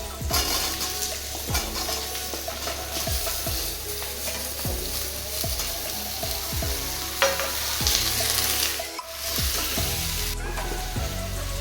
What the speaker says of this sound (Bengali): তারপরে দিলাম আমি কেটে রাখা আলু আর পেঁপেটাকে।